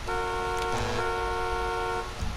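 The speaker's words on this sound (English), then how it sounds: "Pretty standard horn there." Standard horn of an older car in a driving video game, one long steady honk lasting about two seconds, loud and close, then a short low tail as it cuts off.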